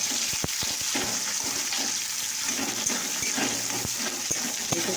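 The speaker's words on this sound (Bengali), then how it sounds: "তো একটু পেঁয়াজটা ভাজা হবে।" Onions frying in a pan for Bengali fish kalia give a constant close sizzle, broken by scattered sharp ticks and knocks from the pan, and no one speaks.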